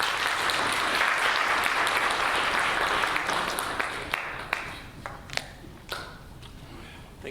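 Audience at a launch event for compulsory and mandatory programmes applauds, steady clapping that thins out into scattered individual claps toward the end, moderately distant.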